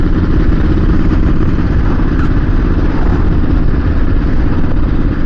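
A motor trike engine rumbles loudly and steadily as it passes, a close, continuous mechanical drone with clattery texture and no voices.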